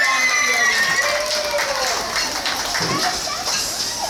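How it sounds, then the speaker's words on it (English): An audience claps and cheers for an orca at a Dine With Shamu show at SeaWorld San Antonio, a dense steady roar of applause with a voice talking over it. "She gets to watch all of you guys clap and cheer for her."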